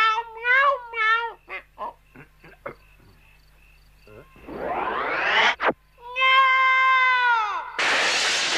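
A person mimics a cat in a French cartoon, with several short meows followed by long, drawn-out yowling cries and a burst of hissing at the end.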